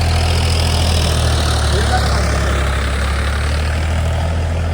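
A tractor engine idles and runs steadily in a field during field preparation, a loud continuous low rumble with no pauses, close to the listener.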